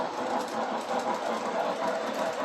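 A New York Central 4-8-4 Williams model steam locomotive with a centipede tender runs with a steady rolling rumble and faint clickety-clack on the rails, close by and continuous.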